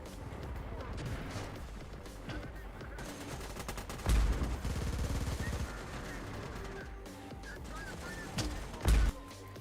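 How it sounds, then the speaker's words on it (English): Avenger gunfire in the Terminator Dark Fate Defiance game, heavy rapid bursts and booming impacts amid ongoing battle noise, with the loudest sustained volleys midway and another hard blast near the end. "Is that an Avenger shooting at me?"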